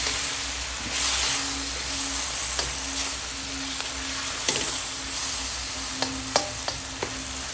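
Bean sprouts, tofu and mushrooms sautéing with oyster sauce in a pan, a continuous close sizzle broken by several sharp spatula stirring knocks and scrapes, no talk.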